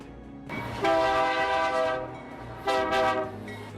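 A train horn at Mina Railway Station in Nigeria blares in two loud blasts, the first long and the second shorter, over a steady rumbling background of rail noise.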